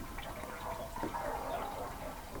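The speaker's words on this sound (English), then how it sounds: "let's just go ahead and dump that water out. Dump it back in your bucket there" Water poured from a seed-starting tray of soaked pellets into a bucket, a faint splashing trickle with a brief splash partway through.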